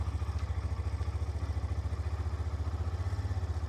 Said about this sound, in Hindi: आप इंजन का साउंड आपको सुना देता हूँ कि वो कैसा है